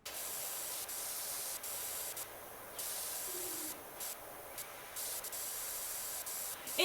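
A pressure washer in Power Wash Simulator 2 sprays in a steady, bright hiss that cuts out briefly several times between bursts, fairly quiet and continuous with no talking.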